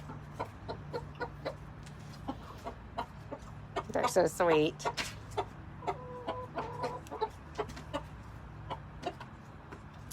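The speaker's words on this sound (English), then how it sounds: "chickens live about 6 to 8 years" Pet chickens clucking close by at a cabin, with a steady run of soft clucks and one louder, squawking burst partway through, while a person talks over them.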